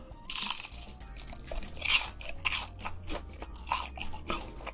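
Cheetos snacks that have been deep-fried, crisp outside and soft inside, crunched and chewed close up in repeated crisp bites with no talking.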